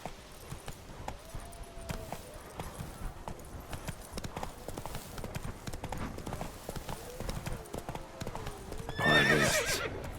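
Hooves of Roach, a horse in the video game The Witcher 3: Blood and Wine, clip-clop in a steady walking rhythm close by, ending in a loud whinny, with faint speech now and then.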